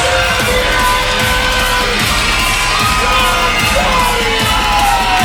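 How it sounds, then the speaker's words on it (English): A wrestling arena crowd erupts after a championship win, a loud, dense, continuous roar of cheering, yelling and whooping that holds steady throughout. "The crowd is going nuts."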